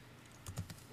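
A few quick keystrokes on a Mac keyboard, faint and close, clustered in a brief burst within otherwise quiet room tone.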